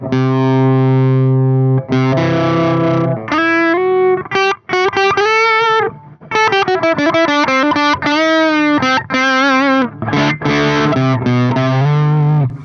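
A RecHead cassette-recorder effects pedal with its level pushed all the way up, compressing, clipping and overdriving a sustained harmonic instrument tone, loud and continuous with short gaps between phrases.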